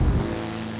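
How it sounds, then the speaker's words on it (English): A brief burst of a supercharged 89-year-old BMW motorcycle engine revving, throaty, loud and close, with a low rumbling drone. "It's got a very unique sound to the engine compared to anything else."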